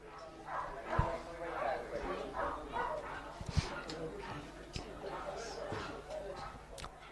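Large dog barking and yipping at an international agility competition, several short sharp barks scattered among crowd noise and ongoing commentary talk, moderately distant.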